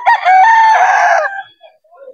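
A loud, close rooster crow rings out once, followed by a few soft clucks as it fades.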